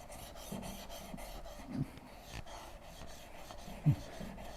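Steady rasping scrub of a hand plane's sole worked flat against abrasive, a continuous low rubbing stroke with a couple of brief louder knocks, close and alone without talk.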